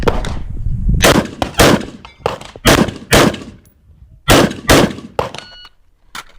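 A run of loud rifle shots at a tactical rifle match, about eleven sharp cracks with steel-target clangs, fired at an uneven, deliberate pace, close by with no talking.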